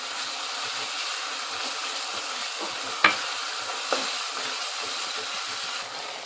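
A spice paste of salt, chili and masala fries in a pan for Kastoori chicken, holding an even sizzle, with two sharp clinks of a utensil against the pan partway through.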